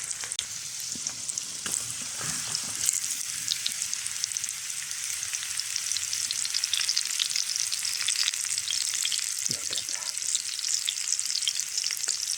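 Steak, potatoes and mushrooms deep frying in a pan outdoors give a dense, continuous crackling sizzle that holds steady throughout, with occasional louder pops and a few clattering touches as pieces are turned.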